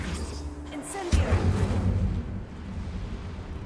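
An Incendio fire spell cast in a Harry Potter–style video game lands as a sudden whooshing burst followed by a low rumbling roar of flame that slowly fades.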